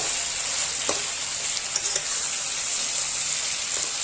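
Pointed gourd fries in a pan with an even, continuous sizzle, with a few faint clinks and stirring sounds rising briefly above it.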